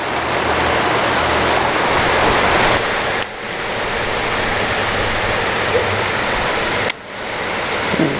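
Creek water flows and rushes past an eroding high gravel bank, a loud, dense, steady roar close to the listener, briefly dipping twice and then resuming, with no voices.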